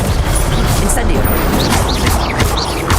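Hogwarts Legacy combat with the Incendio fire spell cast repeatedly, a rapid run of loud bangs, crashes and fiery bursts packed together, with a character's voice calling out over the effects.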